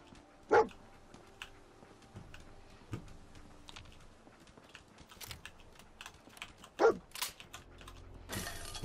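Dog barking in the Fallout 4 video game, a few sharp separate barks spaced seconds apart, fairly faint over quiet keyboard typing.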